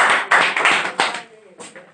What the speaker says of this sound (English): So please clap for my third player